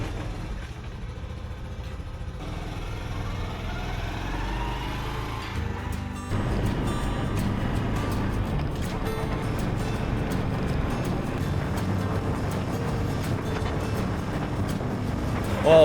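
A small 109cc motorcycle is ridden along a road, its engine droning steadily with wind noise, growing rougher and louder partway through.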